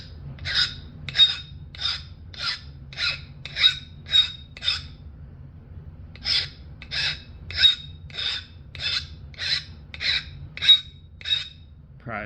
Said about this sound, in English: I'm going to sharpen for the 50th time